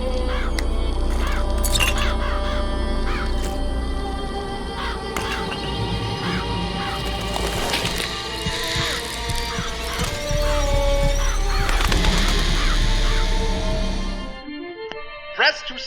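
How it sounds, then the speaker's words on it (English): A summoned flock of murderous crows caws and flaps in Bioshock Infinite, harsh squawks and crashing effects layered over ongoing game sound, loud and busy before cutting off abruptly near the end. "Press to summon murderous crows."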